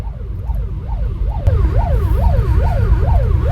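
An ambulance siren wails loudly and close by, rising and falling in a steady repeating sweep over the low rumble of a heavy traffic jam on the Delhi–Chandigarh highway.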